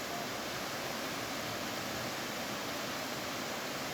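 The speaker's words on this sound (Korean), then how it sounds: "물소리 들리시죠?" Constant broadband rushing water of a mountain stream on Deogyusan, steady and fairly loud throughout, with no voices or other distinct sounds.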